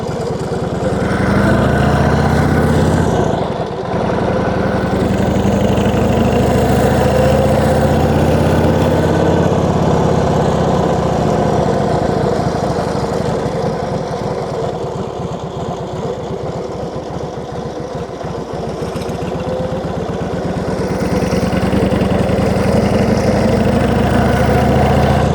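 A 1934 Indian Chief motorcycle engine runs steadily and close by, a throbbing low rumble that holds fairly even throughout with slight swells.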